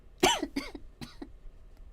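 A person coughs three times indoors, a loud close cough followed by two weaker ones in quick succession, then quiet.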